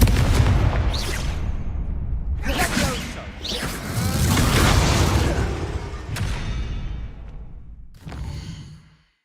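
Confringo fire spells blasting in Hogwarts Legacy combat, with loud rumbling whooshes and booming impacts in repeated bursts, dense and close, trailing off at the end.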